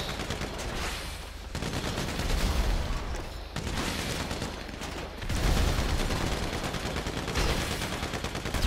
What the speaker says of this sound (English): That was a good shot.